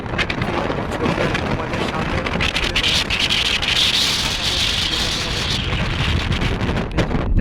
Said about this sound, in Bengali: প্রচণ্ড পরিমাণে বাতাস বইছে এবং যার ফলে হুগলি নদীর জলে প্রচণ্ড উত্তাল শুরু হয়েছে।